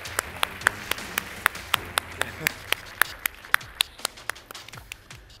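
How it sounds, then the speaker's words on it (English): Scattered, sparse claps at a school freshmen orientation magic show, a few hands striking sharply and unevenly over about five seconds against a murmuring room. "let's give Kester a big round of applause"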